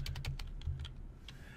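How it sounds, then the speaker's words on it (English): Typing on a computer keyboard in a classroom: a close, quick burst of crisp keystrokes, a short pause, then one more tap near the end. "if I type in blackhawk.edu and I hit enter"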